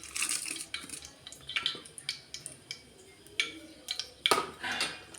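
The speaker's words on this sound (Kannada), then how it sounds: "ನೆಕ್ಸ್ಟು ಜೀರಿಗೆ ಸಾಸಿವೆಯನ್ನು ಹಾಕೊಳ್ಳೋಣ. ನೋಡ್ತಾ ಇರ್ಬೋದು ಅದು ಚಟಪಟ ಅಂತ ಬರ್ತಾ ಇದೆ" Cumin and mustard seeds crackle and pop in hot oil for tempering, a close, irregular scatter of sharp ticks and small bursts over a faint background hiss, with no speech.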